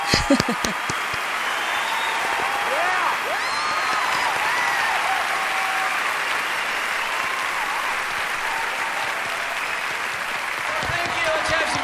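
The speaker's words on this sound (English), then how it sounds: "Applause for the band." A concert audience applauds a band at a show with Mongolian performers, steady, dense clapping that fills the whole stretch, with a few sharp louder claps at the start and a voice heard briefly.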